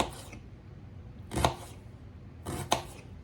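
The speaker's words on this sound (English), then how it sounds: "Get these onions sliced up kind of thinnish." Knife slicing an onion thinly on a cutting board, two separate crisp chopping cuts about a second apart, close and clear in an otherwise quiet kitchen.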